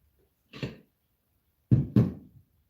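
Woodstove door being pushed partly closed, giving one soft thud followed a second later by two close, sharp metallic knocks in quick succession, with no talking.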